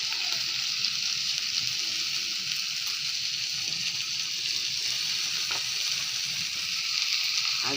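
Chopped banana flower fries in a hot pan for a Bengali dalna, giving a steady, fairly quiet sizzle with no talking.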